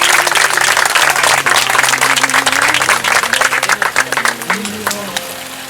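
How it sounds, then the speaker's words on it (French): Wedding guests applaud loudly and continuously, the clapping thinning into scattered individual claps near the end, with faint voices and murmurs underneath. "j'aimerais qu'on l'applaudisse quand même"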